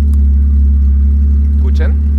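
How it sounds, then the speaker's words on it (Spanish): A V12 car engine idles with its cutout exhaust valves open, a loud, deep, steady rumble heard close for about two seconds, with a short voice heard faintly over it near the end. "les quiero mostrar la diferencia de sonido que hay entre el auto con el escape abierto y con el escape cerrado"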